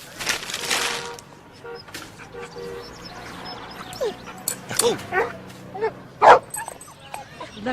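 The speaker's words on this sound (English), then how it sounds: "Look at the cute dog." A dog gives short, scattered yips, whimpers and sharp barks at close range, with uneven pauses between them over low background sound and a faint voice.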